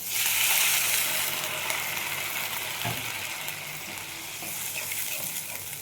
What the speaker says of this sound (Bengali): এরপর দেখো আমি জলটা ঢেলে দিচ্ছি